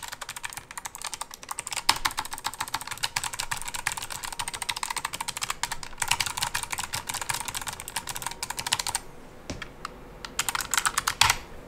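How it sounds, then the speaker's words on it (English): Clicky Logitech G915 mechanical keyboard WASD keys pressed in quick repeated gaming bursts, close up, dense and rhythmic with a short lull near the end. "If you're gaming, this is what it kind of sounds like"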